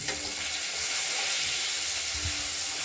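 Diced potato and chopped tomato fry in a hot pan, giving a steady, close, hissing sizzle that continues evenly throughout, with no voices.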